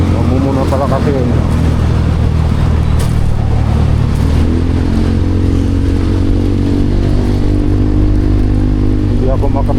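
A loaded motorcycle carrying cargo on the back and front rides along with a steady, loud engine drone throughout, while a person talks over it.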